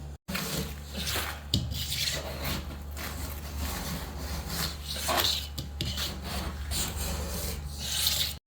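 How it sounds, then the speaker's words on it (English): Steady, close scraping of sticky old wallpaper off a kitchen wall during a remodel tear-down, a continuous rough rasping and rubbing with repeated strokes and no talk. "I'm going to get back to my scraping job"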